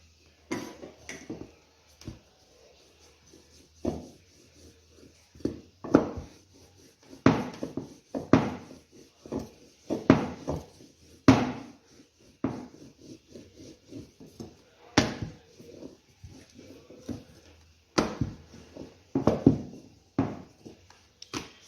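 Dough balls rolled out into thin flatbreads for cabbage patties on a kitchen counter, with repeated soft knocks and rubbing strokes of the rolling pin in irregular bursts, close and fairly quiet, with no talking.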